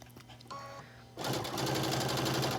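A sewing machine running a basting stitch along stretched knit binding across the front of a top, a short burst and then a steady close whir of needle strokes, with no talking.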